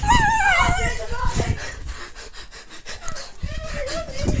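A dog pants rapidly and whimpers up close in a series of breathy rhythmic huffs with high whining tones, while a person shouts nearby.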